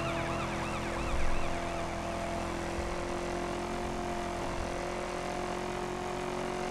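An emergency vehicle siren in The Crew racing game wails in repeated up-and-down sweeps over a steady engine drone, moderately loud and continuous, with a brief low thump near the start.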